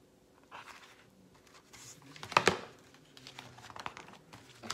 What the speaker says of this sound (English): He just crumbled up the drawing and threw it across the room.